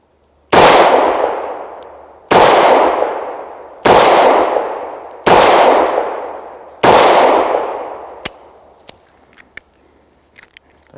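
Five loud shots from a Taurus Ultralite revolver fired one after another at a steady pace, each ringing out into a long decaying tail, followed by a few faint metallic clicks.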